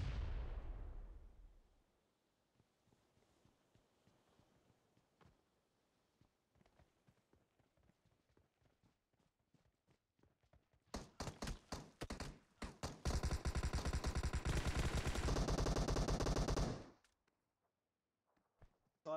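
Gunfire in PUBG Mobile: a boom fading at the start, then scattered faint clicking steps, then a dense burst of loud rapid shots lasting several seconds before cutting off, with no speech.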